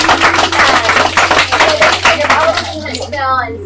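Audience applause at a church-style training gathering: scattered, fairly close hand claps running steadily beneath a person talking over them.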